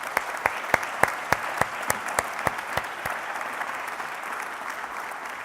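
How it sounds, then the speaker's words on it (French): Audience at a student prize ceremony applauding the winning student, a steady round of clapping with a few sharp louder claps standing out early, then settling to even applause. "Je vous invite à l'applaudir tout de suite."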